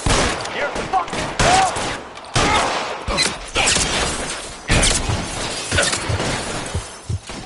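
Gunfire in the video game Detective Dalt-Wan, irregular bursts of loud close shots and sharp cracks mixed with shattering impacts, separated by short gaps, with speech partly audible.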